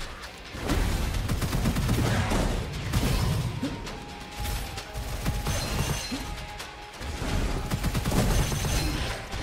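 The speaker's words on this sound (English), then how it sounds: "Now these guys are shooting me constantly" Dense, sustained gunfire and crashing impacts from enemies in the shooter game Gunfire Reborn, loud and continuous with sharp bursts and metallic shattering throughout, no voices.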